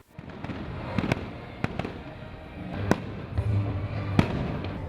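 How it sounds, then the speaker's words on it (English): Fireworks crack and pop in irregular bursts against a constant outdoor rumble, some bangs sharp and close, others softer and farther off, at the end of a Christmas lights switch-on event in Sunderland. "the sky was lit up with a firework display"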